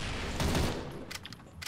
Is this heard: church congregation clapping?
no